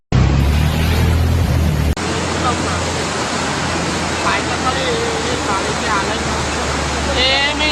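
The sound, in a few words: floodwater rushing in river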